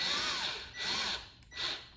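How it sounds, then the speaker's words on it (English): Drill gun fitted with a 5/32 bit boring into wood during table assembly: three bursts of high whirring with short pauses between, close and clear, with no talk. "Use your drill gun with a 5/32 bit on it"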